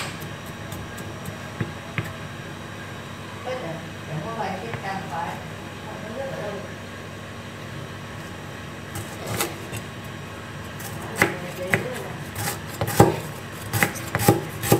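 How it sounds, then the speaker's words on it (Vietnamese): Quick, repeated knife chops mincing lemongrass on a cutting board, a steady rhythm with occasional louder strikes, while a person talks nearby. "Sả các bạn băm nhỏ nhé."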